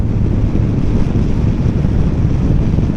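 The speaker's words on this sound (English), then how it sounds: "the bike with the screen down, it's a lot windier. You notice it a lot." Heavy wind buffets the rider of a Honda NT1100 motorcycle with its windscreen lowered, a loud, constant low roar of rushing air with no break.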